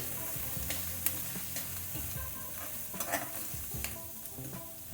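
Curry leaves frying in hot oil for a brown top millet upma give a steady close sizzle, with stirring scrapes and small pops breaking through now and then.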